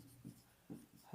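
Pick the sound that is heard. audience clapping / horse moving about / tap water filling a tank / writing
writing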